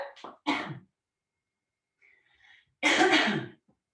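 Someone coughs from spicy cooking fumes in a kitchen: a quick cluster of coughs, then a pause with faint breathy noise, then one longer, harsher cough, close and loud.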